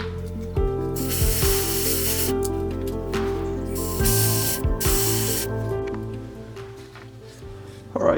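An airbrush sprays paint onto an Imperial Fists miniature in short hissing bursts, with pauses and mechanical clicks between passes. A steady low hum runs underneath.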